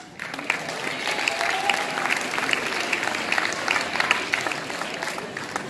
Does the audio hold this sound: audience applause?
yes